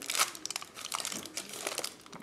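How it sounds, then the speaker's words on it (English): Aluminum foil peeled away from a plaster mold for soft plastic fishing lures, giving soft close crinkling and crackling over about two seconds, fairly faint. "I'm just going to take off the foil."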